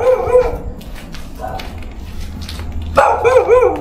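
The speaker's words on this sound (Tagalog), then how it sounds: "Marami pong aso po dito." Dogs in an abandoned village bark in three short bursts, nearby and loud, with a yelping, whining edge and quiet gaps between them.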